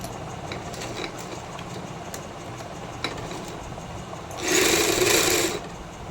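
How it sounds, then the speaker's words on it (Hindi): A sewing machine stitches a salwar in one brief, fairly loud burst of whirring near the end, after quieter fabric handling and room noise. "अब ये आसन की सिलाई लगा के दिखाएंगे।"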